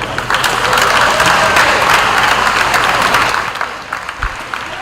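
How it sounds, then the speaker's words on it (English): A crowd at a karate encounter between Trinity and St. Thomas's College applauds and cheers loudly and steadily at a sports complex, then the clapping thins out toward the end. "Shall we welcome them with a loud cheer?"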